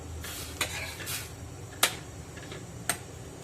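A spoon stirs chunks of tender, unpeeled bottle gourd into a shrimp curry in a pot, making soft scraping clinks: a few distinct knocks against the vessel over a faint sizzling bed, close and fairly quiet.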